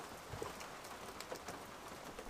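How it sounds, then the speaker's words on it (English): Morning rain falling on a camping shelter, a soft, steady patter with scattered drop taps, fairly faint and continuous, with no voices. "It's a wet, rainy morning."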